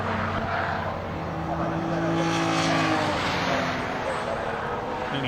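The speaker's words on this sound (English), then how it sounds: "the whine of the supercharger" A supercharged race car screams past at Thruxton circuit, its high supercharger whine layered over a loud, steady engine roar that holds strong throughout.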